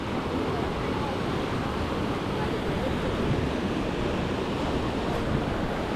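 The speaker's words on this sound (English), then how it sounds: "Look at that waterfall." A waterfall at Dave's Falls in Amberg, Wisconsin, pours over rocks with a steady, dense roar of rushing water that stays close and loud throughout, with no talking.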